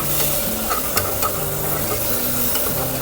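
A freshly ground paste thinned with a little water is stirred and fried in a pan, with a constant sizzle and repeated scraping strokes of the spoon close to the mic.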